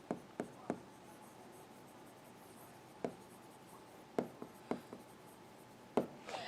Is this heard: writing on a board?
yes